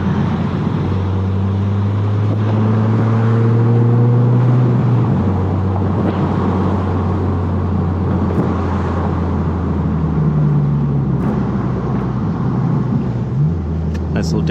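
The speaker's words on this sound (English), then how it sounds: "Nice little downshift there." Toyota Corolla Hatchback fitted with a 2J Racing catback exhaust, a steady loud drone from inside the car with the pitch stepping during downshifts, a voice talking over it at times.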